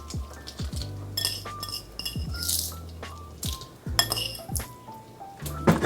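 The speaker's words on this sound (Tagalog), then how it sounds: "Tatakpan ko lang to ng mga 1 minute" A metal pot lid clinks and clatters into place on a pot of chicken sotanghon soup, giving several sharp, close knocks in a quiet kitchen.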